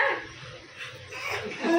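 A dog barks and yips a few times at close range over low background noise, with a louder bark at the end.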